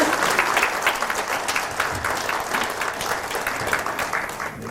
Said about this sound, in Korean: 박수 한 번 더 치는 걸로.